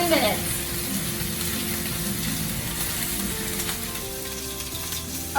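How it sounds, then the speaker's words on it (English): A sous-vide pork chop searing in a hot pan, giving a loud, dense, continuous sizzle that holds steady from start to finish without pause. "Searing each side."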